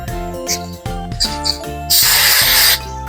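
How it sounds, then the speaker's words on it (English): A short hiss of hairspray bursts out for under a second, loud over a bed of steady music. "I will spray it with my hairspray"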